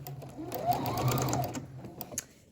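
A sewing machine runs in one continuous burst of stitching as a fabric face mask with a filter is sewn, followed by a few light clicks and taps near the end.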